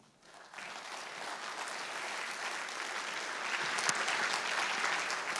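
An audience applauds a panel of justice politicians as they are brought onstage at a debate, with steady, dense clapping that starts abruptly, fills the room, and swells slightly toward the end.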